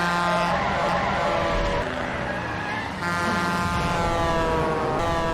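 A car in a film chase scene roars off under hard acceleration, the loud, continuous engine whine mixed with tire skidding and a brief dip before the revving surges again.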